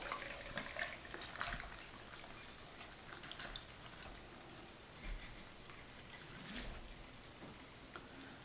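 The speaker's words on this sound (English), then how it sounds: "I'm just going to pour it through the colander here, the sieve, and strain out the pieces." Vinegar liquid poured through a sieve strainer in a home kitchen gives a faint, steady splashing trickle with small spatters, quiet and without talk.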